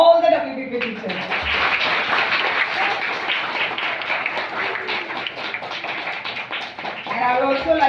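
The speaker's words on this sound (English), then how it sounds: "so then you all clap for all the WPP teachers." Students at a summer camp showcase clap for their teachers, a loud, dense burst of group clapping that follows brief speech and carries on for several seconds before a voice returns.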